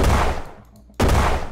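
Cannon fire from a flak gun in the building game Brick Rigs, two loud, harsh bursts of shots separated by a short gap.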